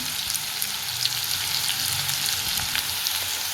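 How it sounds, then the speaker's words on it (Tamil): Ginger garlic paste fries with onions in oil for beef chukka, a steady close sizzle with occasional stirring clicks and no talk. "இப்போ அரை ஸ்பூன் அளவுக்கு இஞ்சி பூண்டு பேஸ்ட் இதில் சேர்த்துக்கலாம்"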